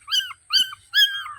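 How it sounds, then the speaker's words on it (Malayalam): A frightened puppy lets out three high, thin whimpers in a row, close and fairly loud, with short quiet gaps between them. "ഇതാണ് പട്ടിക്കുട്ടി."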